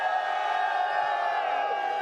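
An arena crowd at the Dota 2 International 11 final roars in a continuous wall of cheering and shouting, loud and sustained with no pauses.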